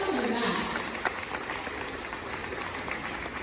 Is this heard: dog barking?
no